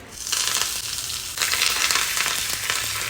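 Loud, steady sizzling of spices and curry leaves frying in hot ghee for a tempering, a crackling hiss that surges briefly partway through, with no voices.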